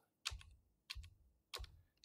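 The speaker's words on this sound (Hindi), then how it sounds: "कीबोर्ड का राइट डायरेक्शन पे मैं क्लिक करता जाऊंगा" Three separate presses on a computer keyboard, each a crisp close click with a short low thump, spaced evenly about two-thirds of a second apart in an otherwise quiet room.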